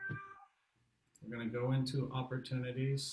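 A pet cat meows with a short, high harmonic cry at the start, then a person keeps talking over the rest; the meow is close and clear before the speech begins.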